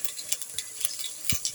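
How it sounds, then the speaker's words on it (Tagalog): Potatoes, drained and dropped into hot oil for a pork afritada, fry with a steady close sizzle broken by scraping stirs and soft clacks of a utensil against the pan. "Ipiprito muna natin siya para maluto na."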